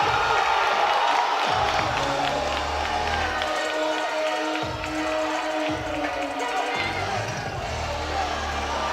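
Spectators at a packed powerlifting meet cheer and roar continuously, a loud, dense crowd wash with whoops, while a voice speaks over the din.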